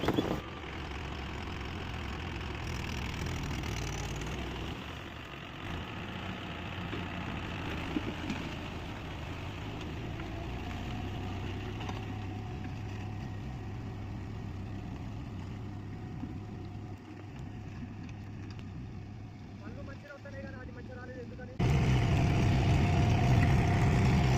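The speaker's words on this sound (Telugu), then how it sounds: "నాకు ట్రాక్టర్ డ్రైవింగ్ కూడా వచ్చండి" A tractor engine runs steadily while being driven, a continuous mid-pitched drone that holds for over twenty seconds and then grows suddenly louder near the end, with no talking.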